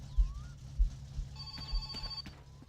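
A telephone rings inside the video game My Summer Car, a faint electronic trill with a steady buzzing tone partway through, set against a low rumbling background.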